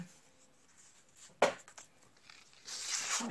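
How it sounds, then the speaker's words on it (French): A paper envelope is torn open, a sharp, close rip followed by softer papery rustling and crinkling while it is handled. "je vais commencer par l'enveloppe de Marie-Christine"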